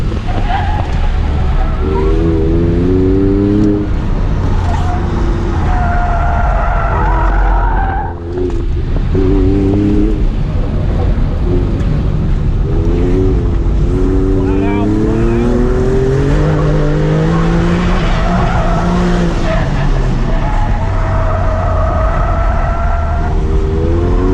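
An Audi S3 with modified suspension running an autocross course: a loud, close engine note that rises and falls through the runs, with repeated tire squeal and skidding under heavy braking. Voices talk over the car noise.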